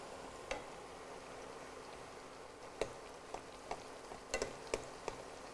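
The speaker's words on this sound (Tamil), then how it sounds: "ஸோ இந்த மாதிரி எண்ணெயை ஊற்றினீங்கன்னா சின்ன சின்ன பபுள்ஸ் வந்து மேலே உப்பி வரும்" Small puris deep-fry in hot oil, giving a faint, steady bubbling hiss broken by scattered soft pops and crackles, with no speech.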